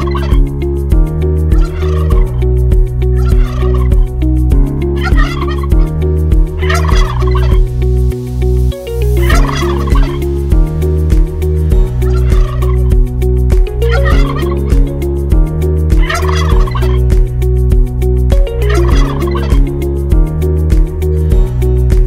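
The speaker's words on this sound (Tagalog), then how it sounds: "Ang alaga naming pabo na si Attribution, parang laging galit, nangahabol." A pet turkey on a farm in the Philippines gobbles repeatedly in loud, rhythmic bursts, one after another and close by, with no talking over them.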